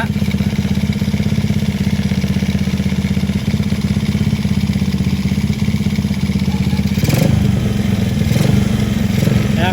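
A motorcycle engine running steadily close by for nearly ten seconds with an even, throbbing idle, rising briefly in a short rev-like surge with some clatter near the end, during headlight and charging wiring work.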